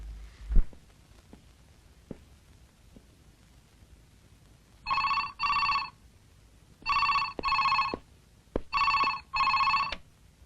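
A telephone bell rings in three paired bursts, loud and close, after a few seconds of quiet with faint knocks, for an incoming call from Hong Kong.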